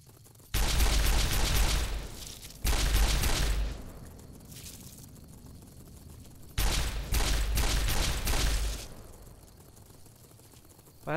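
A gun in Fallout New Vegas fires in long loud bursts of rapid automatic shots, three main volleys separated by short quiet gaps, with mechanical clatter between them.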